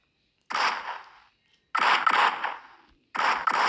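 Gunfire in the video game PUBG rings out in three separate bursts of rapid shots, each loud and sharp, separated by brief silences.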